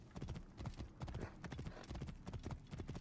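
Horse hooves clip-clopping in the Assassin's Creed Origins video game, a rapid, steady run of hoof strikes, close and loud throughout without talk.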